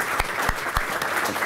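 A studio audience claps loudly and steadily for guest Jacques Viljoen on an Afrikaans cooking show, with dense applause and a few sharper claps standing out.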